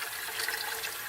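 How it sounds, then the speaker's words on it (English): Water streams steadily into the tank of a Tassimo T21 coffee maker, a continuous hissing, splashing fill heard close and alone for about a second. "Now we're gonna wait for it to fill up with water."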